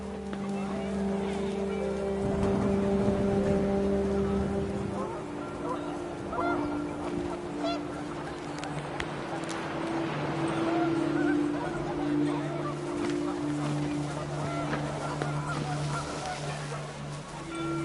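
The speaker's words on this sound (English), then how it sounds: "The wind picked up, and panicked geese appeared and quickly went." Panicked geese in What Remains of Edith Finch honk in a busy flurry over wind and low tonal hum, repeated calls of moderate loudness rising and fading across the scene with no voices.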